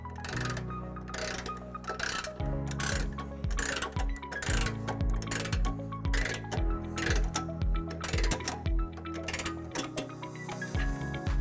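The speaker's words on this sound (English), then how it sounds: "we'll torque our smaller bolt using a 17mm socket to manufacturer's specification" A torque wrench on a 17mm socket tightening a bolt during a trailer hitch install on a 2017 Tesla Model S, making a run of quick, even ratcheting clicks up close.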